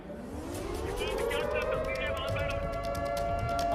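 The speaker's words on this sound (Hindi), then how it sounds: "अभी लगातार यहां पर हमें सायरन्स की आवाज सुनाई दे रही।" A siren wails in Israel during an air raid alert, its rising, sliding tone swelling steadily over a dense, continuous background of outdoor noise and traffic.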